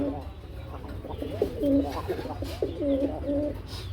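Pigeons at a fancy pigeon market coo in repeated low, throaty phrases, close by, over steady crowd murmur.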